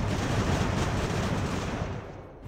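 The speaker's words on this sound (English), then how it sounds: "I'm aiming for the skirmishers with my naval guns" Naval guns firing in the naval strategy game Ultimate Admiral: Age of Sail, a loud sustained rumbling roar of overlapping cannon blasts that rolls on and then gradually fades toward the end.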